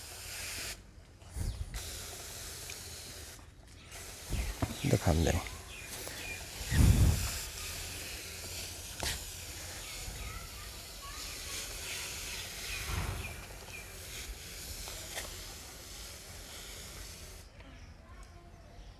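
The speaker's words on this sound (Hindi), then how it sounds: "इसी तरह से प्लांट के चारों तरफ मैं आपको दिखाता चला जाता हूं और साथ में इनको स्प्रे भी करते चलते हैं" A hand sprayer hisses in bursts around a seedless lemon plant being treated for caterpillars, with short sprays and a louder blast near the middle, while someone talks quietly throughout over faint outdoor background.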